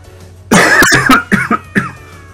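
A close, loud fit of coughing, one harsh cough followed by several shorter ones in quick succession.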